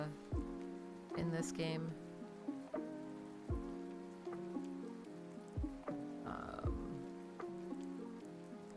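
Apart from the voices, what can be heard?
constant rain noise in a video game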